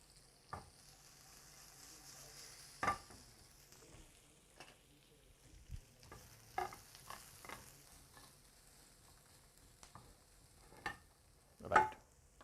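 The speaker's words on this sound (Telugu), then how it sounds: "వీటిని అదే బటర్లో ఫ్రై చేసేసుకుందాం." Onion fries in butter with a faint, quiet sizzle, broken by scattered clicks and scrapes of a spoon stirring in the pan, and a louder clatter near the end.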